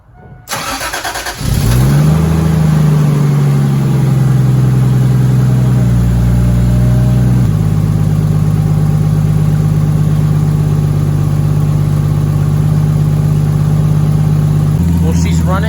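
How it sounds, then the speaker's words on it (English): A Toyota MK3 Supra with fresh spark plugs cranks and fires, then settles into a loud, steady idle with a slight step up in revs partway through, a voice briefly audible at the start. "We're gonna start the car. We're gonna see how she does."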